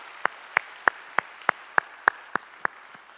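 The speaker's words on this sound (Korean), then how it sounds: "우리의 찬양을 받으신 주님께 영광의 박수 올리겠습니다" A church congregation claps in a slow, even rhythm during a Sunday worship service, about ten distinct claps spaced roughly a third of a second apart, fairly faint and echoing in the sanctuary.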